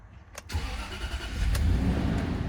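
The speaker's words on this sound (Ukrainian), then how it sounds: "Запускаємо двигун." A 2007 Land Rover Range Rover engine cranks briefly and catches, then settles into a steady, fairly loud running rumble close by.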